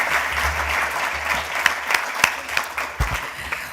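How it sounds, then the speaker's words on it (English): An audience applauds at a school sports awards ceremony, a full burst of clapping with sharp individual claps standing out. A little murmur runs underneath. "Let's give Addison a round of applause."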